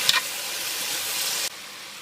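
Stewing beef hits a hot pan for beef caldereta and is stirred in, giving a steady bright sizzle that holds for over a second before dropping to a quieter hiss.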